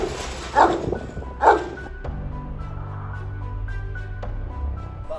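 Kangal dogs give two deep, loud barks about a second apart, followed by a low steady background hum with faint thuds and small whimpers.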